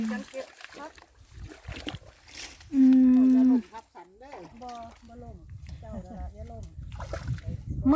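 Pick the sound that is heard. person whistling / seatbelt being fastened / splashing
splashing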